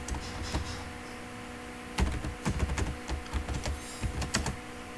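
Keys clatter on a computer keyboard as someone types a line of Python code, starting with a few scattered taps and then breaking into a quicker burst of typing, close and moderately loud, with no talking.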